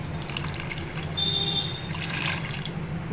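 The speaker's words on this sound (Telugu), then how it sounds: "ఒక గ్లాసు వాటర్ పోస్తున్నా చూడండి" A glass of water poured into a pan of simmering fish curry gives a steady trickling, splashing pour of about a second, close and clear over a low background hum.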